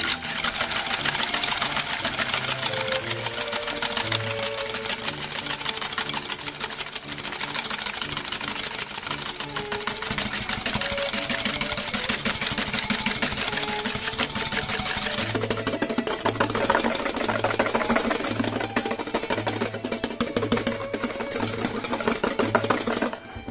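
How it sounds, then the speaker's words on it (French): An electric mixer whips egg whites with a pinch of salt in a bowl, a steady loud motor whir running throughout with a rhythmic rattling knock in the later part. "ceci peut se faire au mixeur électrique, ce sera plus rapide"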